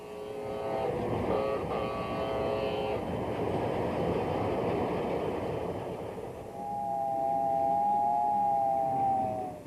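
A small toy train runs steadily around a 1950s-style model layout with a soft, continuous rumble and rattle, then a sustained whistle-like tone sounds near the end.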